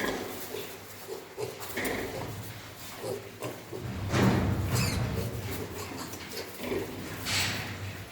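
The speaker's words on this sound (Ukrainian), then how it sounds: "невеликий відеоогляд про моїх малих поросят" Month-old piglets oink and grunt close by in scattered short snorts and squeals, over a busy farmyard background.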